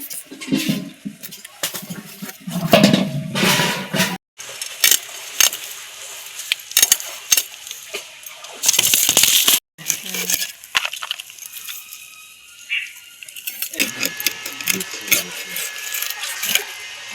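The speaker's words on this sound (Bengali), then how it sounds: "এখন আমাদের মাছ কাটা চলছে, শোল মাছ কাটা হচ্ছে" Snakehead (shol) fish being cut and cleaned, with irregular knife scrapes, thuds and clattering against a surface close by, interspersed with talking and brief pauses.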